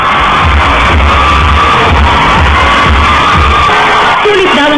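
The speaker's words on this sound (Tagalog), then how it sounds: "Sulit daw ang ginawa niyang paghahanda dahil malakas na hiyawan ang sumalubong sa kanyang pagrampa" A large crowd at the Cosmopolitan Bachelor Bash 2009 cheering and screaming loudly as Aljur Abrenica walks the runway, a dense, constant roar of voices with booming music underneath.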